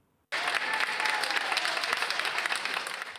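Medical staff at a field hospital in Madrid, Spain, applaud a recovered COVID-19 patient leaving. After a brief silence, a burst of close, dense clapping begins and keeps a steady, lively rhythm for about three seconds.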